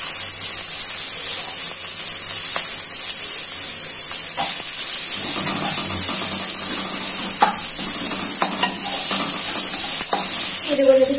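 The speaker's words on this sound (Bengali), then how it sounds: "মিশিয়ে দেবো যাতে পেঁয়াজটা তাড়াতাড়ি ভাজা হয়ে যায়।" Onions frying and being stirred in a pan in a home kitchen, a steady loud sizzle with intermittent scrapes and clinks of the spoon, no talking.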